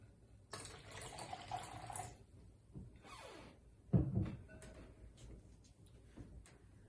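Water is poured into a container up to a fill line, a soft, close trickle and splash in short bursts with a brief louder gush midway.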